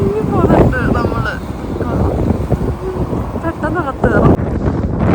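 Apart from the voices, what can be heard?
strong snowstorm wind in Canada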